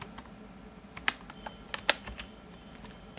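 Close, quiet typing on a computer keyboard, with irregular clicking keystrokes, a few sharper taps standing out and short pauses between bursts.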